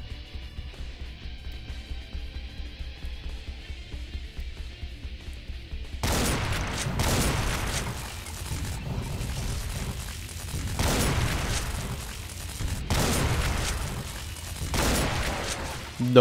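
Gunfire in the Doom mod Project Brutality, level Congo in Plutonia Experiment: after a low droning stretch, rapid loud bursts of shots and booms erupt from six seconds on in repeated clusters, with someone talking between them.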